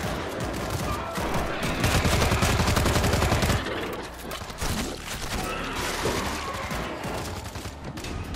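Heavy, sustained machine gun fire from a World War Z zombie shooter, a dense rattling barrage that swells loudest midway, then carries on slightly lower with scattered impacts and crashes.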